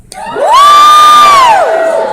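A crowd at a rap performance screams and cheers in one loud, sustained roar that swells quickly, holds for over a second, then tapers off, close and filling the space.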